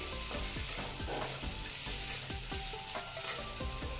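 Steady loud sizzling of tomato frying in a pan, with soft stirring scrapes recurring throughout. No voices.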